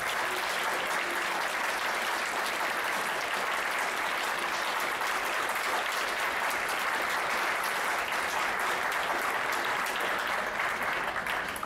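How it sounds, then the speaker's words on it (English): A gathered audience applauds steadily for an extended stretch, dense even clapping at moderate level with no voices. "give my mother and KSU guest body a round of applause for showing up"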